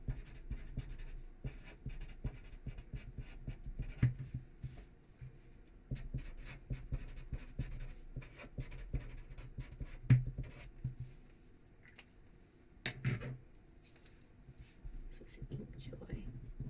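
Pen and mechanical pencil writing on heavyweight index cards, a soft continuous scratchy scribbling with brief pauses and occasional louder strokes, close and quiet.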